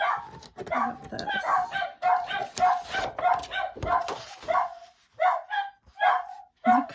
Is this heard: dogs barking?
yes